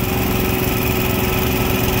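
A diesel hot water burner and water pump for tile and grout cleaning run together, with a truck mount nearby, making a constant loud, droning engine hum with a steady pitched whine and no pauses.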